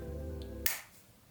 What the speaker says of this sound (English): I'm just gonna snap my fingers and it's gonna be done